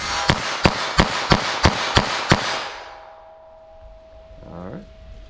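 Seven rapid, evenly spaced gunshots from a .22 Long Rifle snub-nose revolver ring out sharp and loud over about two seconds, followed by a fading ringing tail and a brief faint voice near the end.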